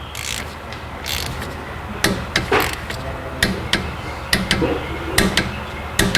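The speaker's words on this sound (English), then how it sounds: "I hope you heard the torque wrench click." A torque wrench clicks repeatedly while brake caliper bolts on a Hyundai Elantra are tightened during a front brake service, giving sharp, close clicks in an uneven series over steady workshop background noise.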